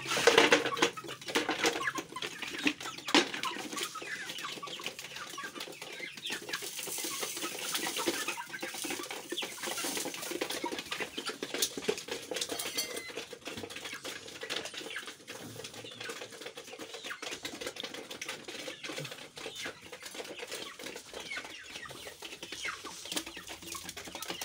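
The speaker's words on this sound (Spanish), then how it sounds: "ya estamos alimentando a nuestras gallinitas criollas, paipollos, franceses" Backyard hens, including native criollo and French breeds, cluck and flutter while being fed, giving a continuous dense chatter of clucks and scratchy rustling, with occasional wing flaps, at moderate distance.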